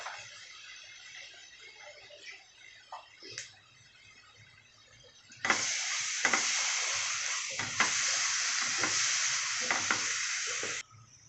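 Ground onion-tomato paste sizzles and hisses in a hot pan with scraping stirs, quiet at first, then a loud steady fry with repeated spoon scrapes for several seconds.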